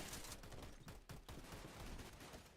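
Rapid gunfire in a first-person shooter video game, a dense burst of overlapping shots with a brief gap, loud and continuous throughout.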